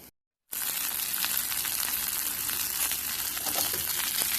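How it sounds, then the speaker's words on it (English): Onions sizzle in olive oil in a cast iron skillet on an outdoor grill, a loud, steady crackling hiss that starts abruptly after a moment of silence and carries on with scattered pops. "I'm going to add a little more olive oil to the situation here, and we're going to grill some onions"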